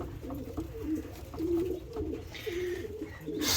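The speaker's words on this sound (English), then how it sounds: "Such a beautiful pigeon." A white-faced pigeon coos in a loft, a series of low, rolling coos repeating steadily at close range against a soft background hiss.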